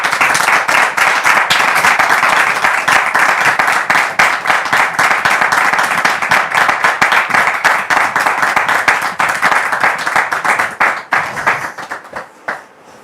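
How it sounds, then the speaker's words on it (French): An audience gives sustained applause to welcome Brother Mathieu on stage, loud dense clapping with sharp individual hand strikes close by, holding steady before thinning and trailing off at the end. "Merci de le recevoir ici et maintenant sous vos applaudissements."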